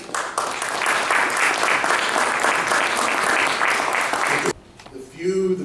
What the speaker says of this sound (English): How about a round of applause for Augie Lerma?